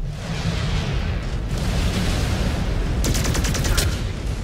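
Mech weapons fire in MechWarrior 5: Clans, a loud dense barrage of booming blasts and rumbling impacts, with a burst of sharp rapid shots near the end.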